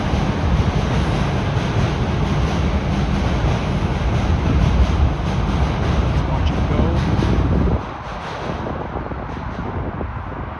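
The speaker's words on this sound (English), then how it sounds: "I can see the train right there. Going from Castle Frank to Broadview. Line 2 towards Kennedy." A Toronto subway Line 2 train rumbles past between Castle Frank and Broadview stations in a loud, steady roar that drops off suddenly near the end, with voices faintly mixed in.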